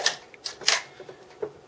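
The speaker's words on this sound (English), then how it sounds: "When you push this lever down, it cocks the mirror and the shutter in the lens" Sharp mechanical clacks and ratcheting clicks from the cocking lever of a Mamiya RB67 Pro medium-format camera as it sets the mirror and lens shutter, a quick close-up series of about four distinct snaps.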